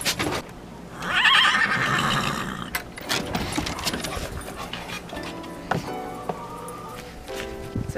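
Hungry horses whinny loudly and close at evening feeding time, one long neigh followed by snorting, shuffling and barn clatter, with a dog also making noise nearby.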